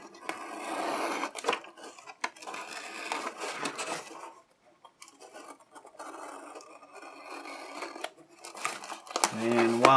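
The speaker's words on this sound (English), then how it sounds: "we'll slice the tape holding the figure in." Tape being sliced on a toy packaging box while unboxing a GI Joe Rise of Cobra Dragonhawk XH1 with its Wild Bill figure: irregular close scratchy cutting and rasping strokes, broken by short pauses and ending in a louder rustle.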